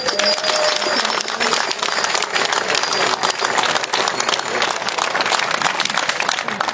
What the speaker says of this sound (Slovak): Veľký potlesk.